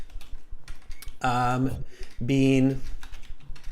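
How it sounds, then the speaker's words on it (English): Rapid clicking on a computer keyboard, close and continuous, with a person speaking in bursts over the typing. "Oh, my typing."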